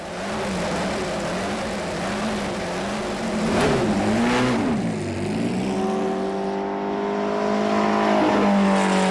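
A 1967-specification Lotus 49 Formula One car's engine barks into life close by, rising and falling through several throttle blips before settling into a loud, steady idle with strong harmonic tones.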